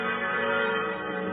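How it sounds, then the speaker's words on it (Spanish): Peace bells ring out across the high open-air plateau of Utsukushi-Gahara museum in Nagano, a sustained, resonant metallic tone that hangs steadily in the air with no voices. "Las campanas de la paz y del amor resuenan sobre esta meseta a 2000 metros sobre el nivel del mar."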